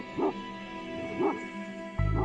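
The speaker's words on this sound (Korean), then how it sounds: "수상한 움직임을 느끼면 큰 소리로 짖어 경계한다." A Mongolian Bankhar guard dog gives short, close yelps and barks at night, about three spaced calls with a low rumble under the last one.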